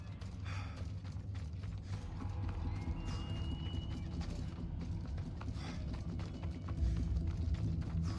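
Horse hooves clip-clop in a steady rhythm in the game Assassin's Creed Odyssey, quiet and somewhat distant, over a low mechanical hum and faint clicking.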